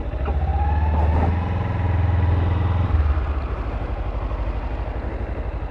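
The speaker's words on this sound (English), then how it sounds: "First time riding a twin cylinder bike." A Kawasaki Ninja 300 twin-cylinder motorcycle engine runs steadily up close while riding, a low throbbing drone with a slight rise and fall in pitch, joined by rushing wind noise.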